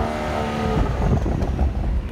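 A 2013 BMW 335i with 306 horsepower revs in sport mode, its engine and exhaust rising from a steady hum into a loud, rough, close-up roar that stays strong for about two seconds.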